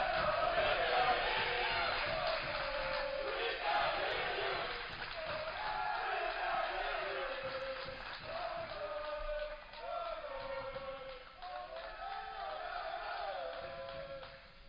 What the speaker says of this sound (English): asking for the crowd to make some noise